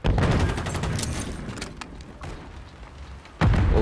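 A grenade going off during a Search and Destroy round in Call of Duty Modern Warfare III, amid a dense rattle of gunfire that fades, followed by a sharp, loud blast near the end.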